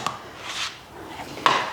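A paella cooker is shifted and set down on a hard surface, with a sharp clunk at the start and a louder knock near the end, separated by quieter scraping and rustling.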